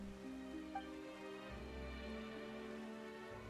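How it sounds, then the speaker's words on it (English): Rain begins suddenly in a video game, a soft, steady patter under faint sustained tonal background music. "Why is it raining all of a sudden?"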